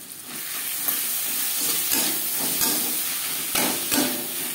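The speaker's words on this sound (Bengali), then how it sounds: "পেঁয়াজ টমেটো ভাজা হয়ে গেছে, দিয়ে দেব আদা বাটা, কাঁচা লঙ্কা বাটা" Onion, tomato, ginger paste and green chilli paste fry for a Bengali fish curry, giving a steady close sizzle with a few soft stirring knocks and no voices.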